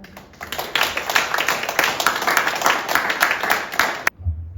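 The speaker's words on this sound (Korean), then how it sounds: "여러분, 전상범 변호사님께 박수 부탁드리겠습니다." Audience clapping at a lecture event in Korea, dense and steady applause from a room full of people lasting about four seconds before cutting off abruptly.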